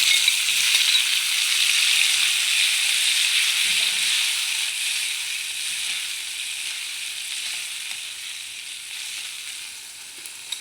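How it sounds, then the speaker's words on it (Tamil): Garlic sautéing in oil in a pan for garlic chutney, a loud, continuous hissing sizzle up close that slowly fades over the stretch, with a faint clink near the end and no talk. "கொஞ்சம் வதங்கிடுச்சுங்க பூண்டு"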